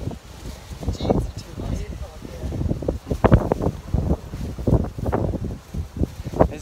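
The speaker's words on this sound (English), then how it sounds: "It's a bit windy, isn't it?" Gusty wind buffets the microphone in rough bursts while people talk nearby.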